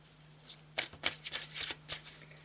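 Marseille tarot cards are shuffled by hand in a quiet room, giving a string of soft, riffling bursts that rise and fall over a couple of seconds, close and alone.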